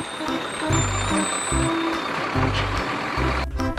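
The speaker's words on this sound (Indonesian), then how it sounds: "mobil truk sampah." A toy garbage truck sounds its reversing beeper, a repeating series of loud electronic beeps at a steady rhythm over a continuous background hum.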